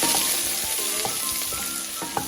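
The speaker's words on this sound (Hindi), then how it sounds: "अब देखें प्याज कितनी गुस्सा कर रही है, मुझे क्यों डाला ऑयल में" Sliced onions hiss and crackle steadily in hot oil in a pan, with faint spoon taps and small pops now and then.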